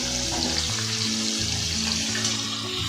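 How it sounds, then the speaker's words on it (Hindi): Paneer pieces frying together in hot oil for matar paneer give off a steady, close, even sizzle with light crackle throughout, with no voices. "देखिए दोस्तों, तेल गर्म हो चुका है। अब हम इसमें सारा पनीर एक साथ ऐड कर देंगे"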